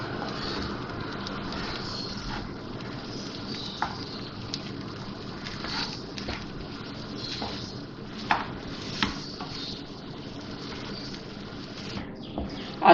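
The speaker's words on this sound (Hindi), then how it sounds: "मिक्स करेंगे इसको।" A spoon stirs potato samosa filling in a pan, giving soft scraping with occasional light taps against the metal over a steady background hiss, with no talking.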